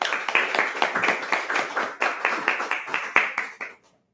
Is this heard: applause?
yes